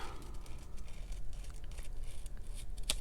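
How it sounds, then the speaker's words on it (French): Scissors snip through paper with crisp, scratchy cutting strokes, ending in a sharp closing snip near the end. "Si on n'a pas de punch, bien on prend les ciseaux, puis on suit la curve"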